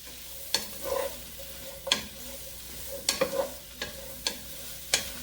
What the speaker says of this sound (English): I'm going to drop over the green peppers and the squash